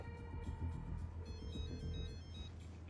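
A phone ringtone plays loudly and continuously with a steady electronic melody, ringing on without a break and without any talking over it.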